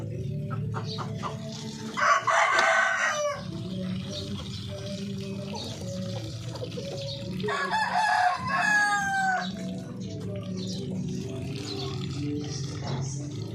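Orpington chickens feeding on vegetables, clucking steadily close by, with two loud crowing bursts rising over the flock's continuous murmur.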